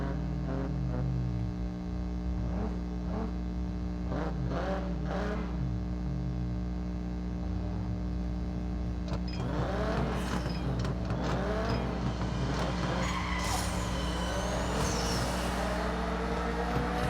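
A race car in the mobile racing game NFS No Limits idles and revs with a steady engine tone, then launches into a burst of harsh tire skidding and rushing engine noise.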